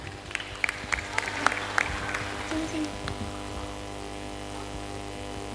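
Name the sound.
audience applause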